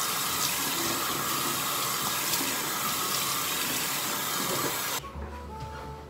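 Tap water runs steadily into a sink in a bathroom for about five seconds while a face is rinsed, then the flow cuts off, leaving faint room noise.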